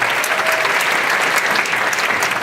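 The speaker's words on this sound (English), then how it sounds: "Give yourselves a big round of applause." A retirement celebration audience breaks into loud, sustained applause, a dense even wash of many hands clapping close by without pause.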